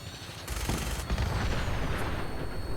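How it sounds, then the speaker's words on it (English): Plasma weapon fire in Fallout 4 arrives as a dense, continuous fusillade of rumbling shots and booms, steady and moderately loud across the whole stretch. "And now I'm getting shot at by whom? Somebody with a plasma weapon."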